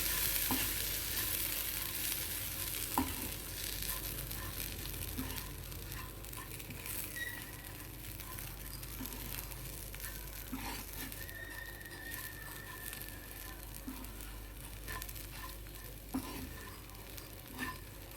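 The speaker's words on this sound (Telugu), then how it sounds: "ఇలా కొంచెంసేపు వేయించేసి స్టవ్ ఆఫ్ చేసేయండి" Okra sizzles as it is stir-fried in a pan, with a constant frying hiss and repeated scraping and stirring strokes, close and clear.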